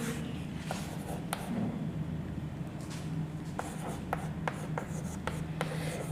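Chalk or marker scratches across a board during a class-10 arithmetic progression lesson, a run of short, sharp strokes with brief pauses, fairly close over a low steady room hum, with no talking.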